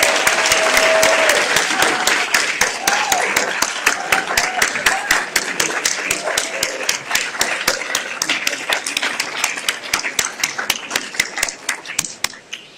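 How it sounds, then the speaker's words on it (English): A room full of people applauds at a university event, giving a round of applause to standing guests. The clapping begins as a loud, dense wash, then thins into sharper, more distinct individual claps as it winds down. "so that we can give you a round of applause"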